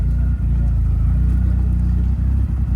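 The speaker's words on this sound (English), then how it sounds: "We've got the Max Power era Mark 1 Astra van rolling out." A Max Power era Mark 1 Vauxhall Astra van idles and pulls away close by at a classic car and bike breakfast outside a pub, its low, steady engine rumble loud and continuous with brief dips.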